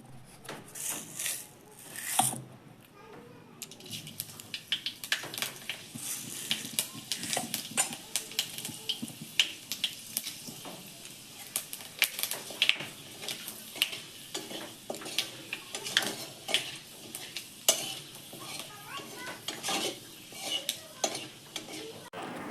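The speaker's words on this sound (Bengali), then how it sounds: "দেখতেই পাচ্ছ মাছগুলো দেওয়া হচ্ছে।" Fish pieces go into a hot pan and fry with a crackling sizzle, broken by frequent scraping and stirring strokes in an uneven rhythm, close up and moderately loud throughout.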